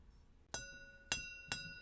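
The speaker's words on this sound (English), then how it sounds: "See, it's not as loud when it's got something in it, but when it's pretty much empty, this thing is like a wind chime." A nearly empty drinking glass is struck three times, each clink ringing out bright and bell-like before fading, close and fairly quiet in a still room.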